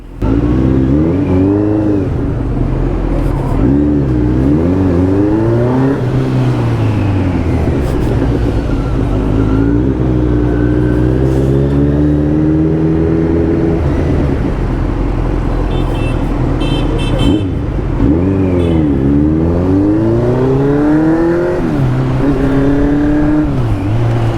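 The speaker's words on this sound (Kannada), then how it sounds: "ಇದು ಸಖತ್ ಪವರ್ಫುಲ್ ಇಂಜಿನ್ನು" A Kawasaki Z900 motorcycle engine accelerates during a ride, its loud revving rising and falling in pitch through repeated throttle pulls and gear changes, continuous and close for the whole stretch with no talking.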